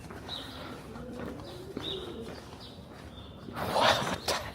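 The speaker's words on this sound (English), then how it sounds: "Does a pigeon want to have some babies?" A pigeon cooing on a New York City street, with several soft, repeated coos spaced through the clip over low city background noise, followed near the end by a louder rustle or burst.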